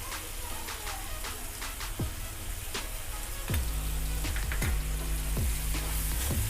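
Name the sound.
tomatoes sautéing in a pan for vegetable kurma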